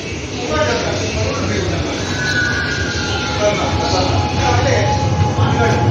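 An underground Mumbai Metro Aqua Line 3 train running through a tunnel, a steady loud rumble with faint squeals and rattles carrying on without a break.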